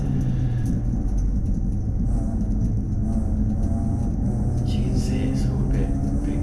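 Mazda MX-5 race cars in a video game at a wet Brands Hatch Indy circuit, a steady loud engine rumble with constant road drone throughout, engines revving under continuous noise.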